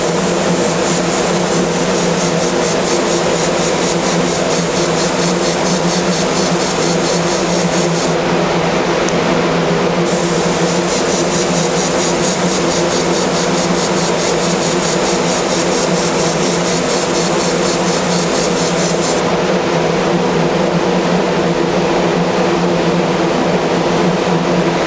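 A spray gun applying Cerakote coating over stencils on Star Wars tumblers, a steady continuous hiss that runs the whole time, loud and close, with a brief dip partway through.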